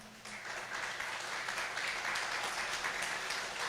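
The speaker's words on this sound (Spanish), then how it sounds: "¿Podemos darle un aplauso al Señor?" A church congregation applauding during a sermon, a steady wash of many hands clapping at moderate distance, sustained and even for several seconds.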